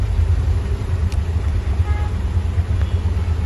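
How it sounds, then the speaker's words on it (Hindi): Road traffic during the Ganpati festival after rain gives a steady, dense low rumble of engines close by, with a brief faint horn toot partway through. "देखिए कितना ट्रैफिक है।"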